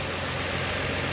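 A Toyota Kluger engine idles smoothly after an alternator replacement, a steady low hum with no break over a very short stretch.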